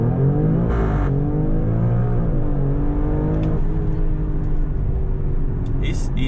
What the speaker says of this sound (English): let's launch the car, see how fast it really is